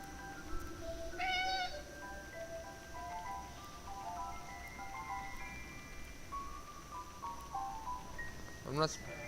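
Cat meowing in the World War I video game 11-11 Memories Retold, several short mews scattered over soft background music, with a louder meow near the end and someone talking over it.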